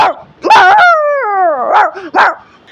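A voice imitates a dog, giving a drawn-out whining yelp followed by a couple of short barks, close and loud.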